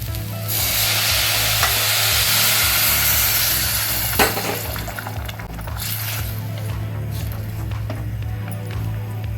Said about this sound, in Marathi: त्याच्यात आता हे गरम पाणी घालूया।